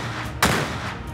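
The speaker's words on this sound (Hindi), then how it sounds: "क्या आपको गोलियां चलने की आवाज आ रही है?" A single sharp, loud bang bursts out suddenly and decays quickly, followed by another sharp crack at the very end.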